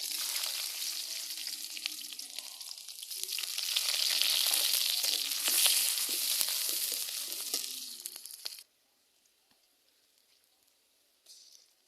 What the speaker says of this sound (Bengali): আমি কাঁচামরিচ, পেঁয়াজ, আদা রসুন বাটা দিয়ে ভালো করে একটু ভেজে নিয়েছি